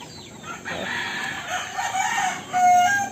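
Pet chickens and a rooster crow and cluck close by, with drawn-out crowing calls rising and strengthening toward the end, no voices present.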